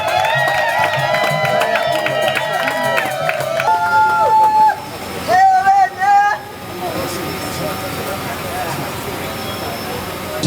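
Guests at a civil wedding cheer and shout for the groom, a crowd roar mixed with lively music and overlapping voices, briefly dipping before swelling again.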